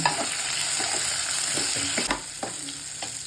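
Steady, close sizzling of onions frying in a pan, with a few soft clinks and stirring scrapes breaking through the hiss.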